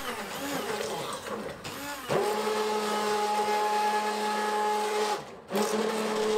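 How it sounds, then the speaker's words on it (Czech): A kitchen blender whirs steadily as it purées thick plum jam (povidla) with rum, cinnamon and citric acid, starting after a brief clatter and pausing once before running on. "Zapnu mixér"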